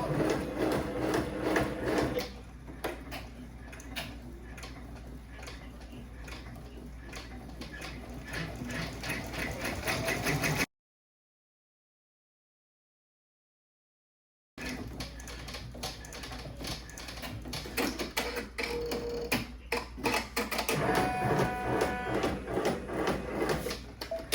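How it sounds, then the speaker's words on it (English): An embroidery machine sews a closure stitch on an in-the-hoop soccer ball coaster, giving a fast, steady mechanical stitching rattle that runs close up, breaks off into a few seconds of silence, then resumes. "now we're going to stitch that closure stitch"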